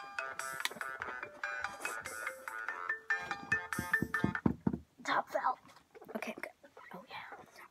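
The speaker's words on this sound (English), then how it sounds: "You want to hear my ringtone?" A phone plays a melodic electronic ringtone for several seconds at close range, followed by soft whispering and breathy voices.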